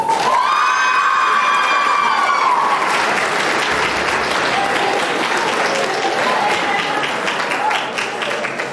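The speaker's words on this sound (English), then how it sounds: "So please give her a round of applause." A crowd at a fall sports awards night bursts into a round of applause with cheers and shouts, dense clapping swelling after an opening whistle-like squeal, high voices whooping over it.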